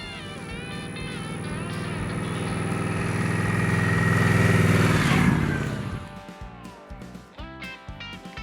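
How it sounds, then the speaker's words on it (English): Indian Scout Bobber motorcycle engine building in a smooth rising drone as it rides past, peaking and then fading, followed by scattered sharper sounds. "I then jumped back on the bobber and rode towards the total opposite"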